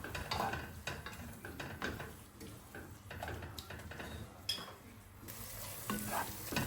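Onion and ginger garlic paste frying with biryani masala, a steady sizzle punctuated by frequent scraping stirs and clicks of a spoon against the pan, close by, with faint talk in places.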